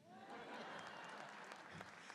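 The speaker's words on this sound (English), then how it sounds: "we had about 5 claps on that" Scattered applause from a small audience at a live Chicago Tribune event, a few claps sounding together and fading, fairly quiet in the room.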